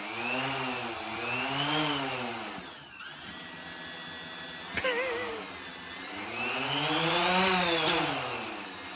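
Helicopter hovering just above the ground, a close, loud whining drone whose pitch rises and falls in slow swells, dipping briefly in the middle before climbing again.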